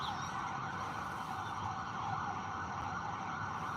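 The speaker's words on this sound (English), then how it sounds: "No, that's the ambulance." An ambulance siren wails continuously at a steady, fairly loud level, its tone holding constant across the whole stretch with traffic rumble beneath and no voices.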